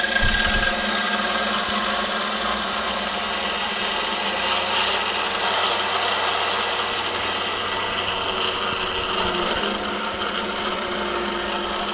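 Machine enlarging a hole in a car part being made into a desk lamp, running on power from a phase converter, gives a steady grinding, rubbing whine that holds at one level throughout.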